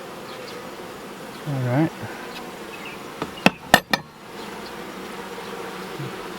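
Honeybees buzz in a steady low drone around an open hive during an inspection, with a louder close pass of a bee, a few sharp knocks of a hive tool against wood, and a brief spoken word.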